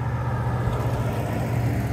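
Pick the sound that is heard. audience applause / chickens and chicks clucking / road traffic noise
road traffic noise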